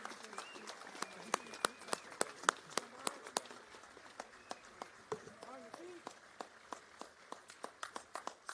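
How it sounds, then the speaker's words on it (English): Scattered clapping from an audience at a memorial ceremony, faint and somewhat distant, with sharp individual claps spread unevenly across the whole stretch, no voices over it. "please join me again in another round of applause for these incredible men and women of our greatest generation"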